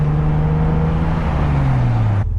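A Jeep TJ with a loud exhaust, driving: a continuous, heavy, low engine drone with a steady throb that holds for about two seconds and then cuts off abruptly.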